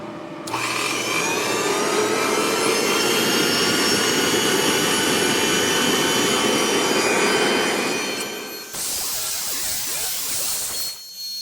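Dumore tool post grinder whining steadily as it grinds a part for a 1914 Chevrolet steering gear box, a loud, sustained high-pitched roar with a faint rasp, then a brief drop and restart near the end.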